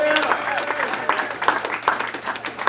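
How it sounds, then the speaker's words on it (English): An audience claps and cheers at a comedy show, a dense patter of applause from a crowd nearby, mixed with a few shouts and talk from the stage. "Clap your hands."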